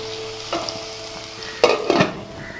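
Tomatoes sautéing in a pan for mutton curry: a soft steady sizzle with a couple of louder scraping stir strokes near the end, close and brief, with no talking.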